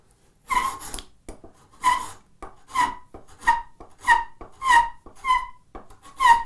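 A spokeshave takes heavy cuts across the end grain of wood, giving a series of about eight rhythmic rasping strokes with a squeaky, bright edge, close and evenly spaced, with no speech.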